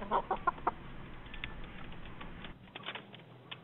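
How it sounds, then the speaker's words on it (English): A rooster gives a few quick, faint clucks at the start, followed by a quieter stretch of low background noise. "That's a rooster, sir."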